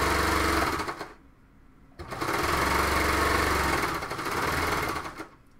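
A serger runs along a fabric seam in two long loud buzzing bursts separated by a brief stop, then halts near the end.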